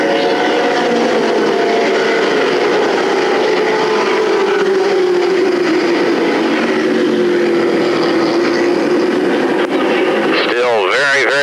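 Limited late model race cars at 1988 New Smyrna Speedweeks drone loudly as the field takes the green flag, a steady engine roar under continuous race commentary, with a passing car's pitch sweeping by near the end.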